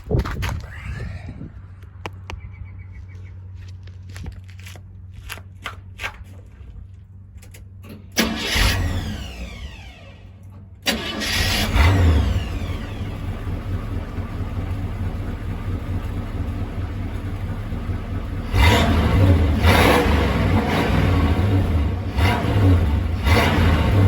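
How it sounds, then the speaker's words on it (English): A square-body Chevy C10 with a 350 small-block V8 and a single Walker Quiet Flow stainless steel muffler cranks and starts, then idles with a deep, steady rumble and is revved up louder toward the end, close by with no talk. "Walker quiet flow stainless steel muffler on a square body C10."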